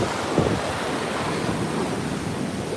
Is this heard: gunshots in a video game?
no